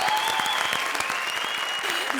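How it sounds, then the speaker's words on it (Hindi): A studio audience on a comedy show gives loud, dense applause that goes on steadily through the whole clip, with a presenter's voice heard over it. "जोरदार तालियां मंत्रा और विशाखा के लिए।"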